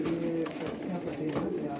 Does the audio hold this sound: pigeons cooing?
yes